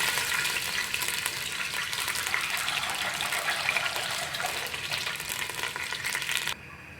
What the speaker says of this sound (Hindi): ज़ीरा इसमें भून गया है, अब इसमें पानी डाल दूँगी।